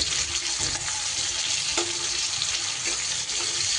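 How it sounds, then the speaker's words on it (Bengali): Sliced onion frying in hot mustard oil gives a steady, loud, dense sizzle that carries on without a break, with faint clinks of a utensil now and then. "এইবার এই তেলের ওপরে দিয়ে দিচ্ছি আমি যে বড় সাইজের পেঁয়াজটা কেটে রেখেছিলাম"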